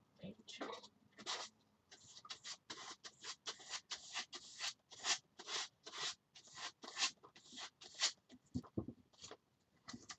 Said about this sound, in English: I'm just going to pick it up with a card and scrape it on